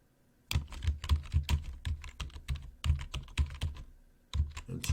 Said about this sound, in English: me just not talking and typing only